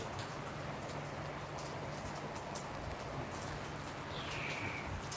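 Steady rain falls in Dubai, a dense even hiss of drops on surfaces, continuous and moderately near, with a faint bird call briefly in the background.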